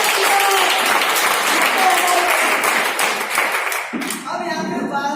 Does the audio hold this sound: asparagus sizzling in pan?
no